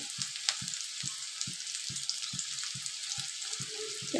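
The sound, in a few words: onion, potato and chili frying in a pan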